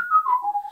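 A person whistles a short tune, a clear single whistled line that glides slightly downward over less than a second, alone and close.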